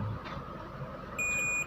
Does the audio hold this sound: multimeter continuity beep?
yes